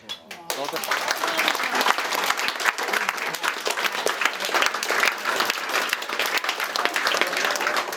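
Wedding guests applauding during the reception speeches, a full round of sustained, dense clapping from a roomful of people that begins after a short pause and continues steadily.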